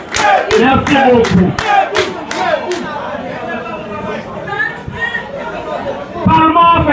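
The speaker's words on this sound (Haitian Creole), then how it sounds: "Les applaudissements pour notre camarade, le colonel" An assembly claps in a quick rhythmic burst for a colonel at a French-speaking ceremony in Haiti, the sharp claps fading into crowd chatter as someone speaks over the room.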